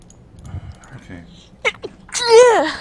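A single sneeze, a quick sharp breath followed by a loud burst, comes after some faint murmuring in a Minecraft game session.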